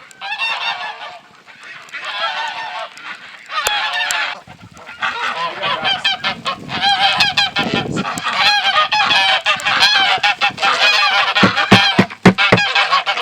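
Several ducks honk and quack loudly and close by in busy overlapping bursts, with a few sharp knocks near the end.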